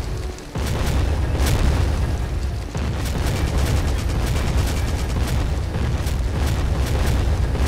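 Panzerschreck rocket explosion in a D-Day video game, a heavy boom followed by a sustained loud roar of battle noise with crackling bursts and scattered gunfire throughout.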